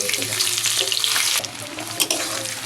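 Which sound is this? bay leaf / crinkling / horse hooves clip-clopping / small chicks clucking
bay leaf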